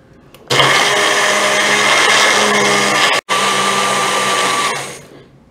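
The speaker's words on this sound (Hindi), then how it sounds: "मिक्सी में चला लेंगे।" A mixer grinder whirs steadily and loudly, blending leftover ice cream with about 50 ml of milk in a covered jar into a smoothie. The motor runs for several seconds, cuts out for an instant, then resumes and winds down.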